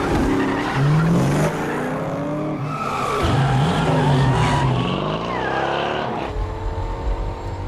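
Racing cars in a film race scene skid hard as their rear wheels lock, with long loud tire squeals bending in pitch over roaring engines, continuous and close throughout.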